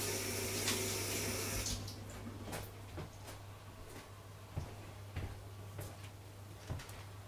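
Water runs from a tap into a sink as hands are washed, a steady splashing flow that stops after about two seconds, followed by scattered clicks and handling knocks against a low hum.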